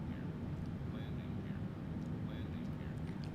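Boeing 777-300ER engines, the Captain Sim model in MSFS 2020, roar at full throttle during a missed approach as a steady, loud, unbroken jet rumble throughout.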